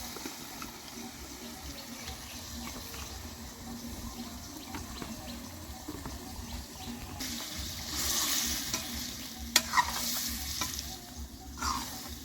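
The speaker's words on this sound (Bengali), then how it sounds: "আমরা এখন গোস্ত দিয়ে দিচ্ছি" Meat sizzles while being stirred in a large pot over a wood fire in a village setting. There is a continuous low frying hiss, with scraping stir sounds and a few sharper clanks toward the end.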